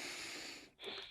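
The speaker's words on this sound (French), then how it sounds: "Une respiration." A single close, soft breath drawn in and released, brief and airy with a short pause between, no talk over it.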